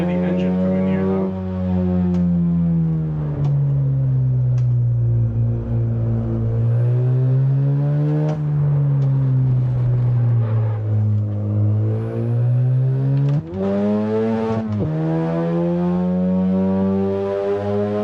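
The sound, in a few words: car engine revving in Initial D video game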